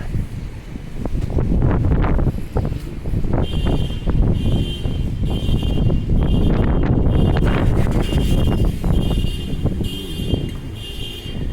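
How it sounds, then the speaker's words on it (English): Strong gusts on a downtown street roar steadily across the microphone, heavy and close, with passing traffic and rustling underneath and no talking. "I'm not sure what will be the best direction to go in because of the wind"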